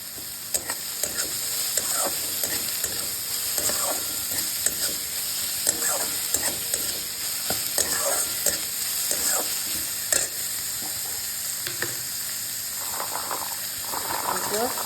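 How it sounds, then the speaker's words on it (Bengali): Meat sizzles in mustard oil with onion and chili in a kadai, stirred with frequent scraping and clattering spatula strokes over a constant frying hiss, close up. "মাংস একসঙ্গে ভাজা হয়ে যাবে"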